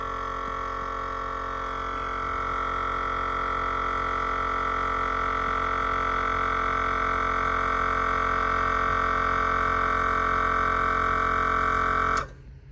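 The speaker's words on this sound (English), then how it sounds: "And that's the compressor kicking on." Air compressor for a train horn on a Chevy 5500HD truck kicks on and runs with a steady, loud mechanical whine and hum for about twelve seconds, then cuts off abruptly.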